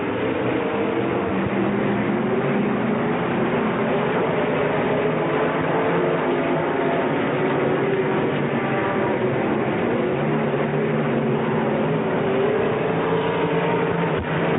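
Limited late model stock cars roar through a speedway heat race in 1993, a steady, dense wall of engine noise from several cars at full throttle with no break.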